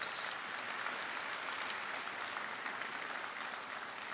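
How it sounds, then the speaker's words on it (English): Sustained applause from a large audience at an honors recognition ceremony, an even wash of clapping heard from some distance, steady throughout at moderate volume. "Give the faculty a round of applause."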